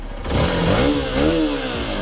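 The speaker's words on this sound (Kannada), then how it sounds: "ಇದು ಇಂಜಿನ್ ಸೌಂಡ್ ಕೂಡ ತುಂಬ ಚೆನ್ನಾಗಿದೆ" Hero Xpulse 200 4V motorcycle engine revving up and easing off in two swells, close and fairly loud, with a steady rough mechanical drone and no voices.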